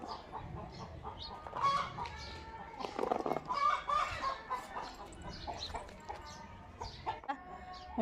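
Chickens cluck close by in repeated short bursts, with a rooster-like call in the middle and faint background voices and household noise throughout.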